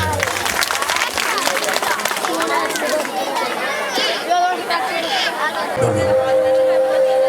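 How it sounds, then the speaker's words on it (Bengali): Applause from an audience at an annual cultural programme, a dense crowd clapping mixed with chatter and babble, steady and fairly loud throughout, with a sustained musical tone entering near the end. "আপনারা সবাই হাততালি দেবেন"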